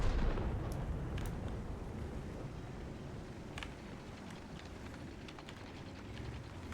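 A tank cannon fires in World of Tanks: a heavy boom at the start, then a long rumbling decay with a few faint distant shots and clicks.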